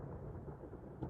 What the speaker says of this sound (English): hears thunder!